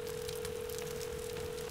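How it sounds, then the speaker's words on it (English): A phone dials a call in a video game on an alien planet: a single steady telephone tone holds for under two seconds over faint hissing noise, with no talking. "Call Anthony."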